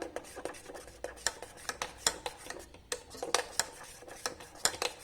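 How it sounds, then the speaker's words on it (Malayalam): A spoon stirs thickening mango pudding mixture in a pot, producing a quick, irregular series of sharp scraping clinks against the metal, close and fairly quiet. "നമ്മൾ നന്നായിട്ട് ഇതുപോലെ ഇളക്കി കൊടുത്തോണ്ടേ ഇരിക്കുക"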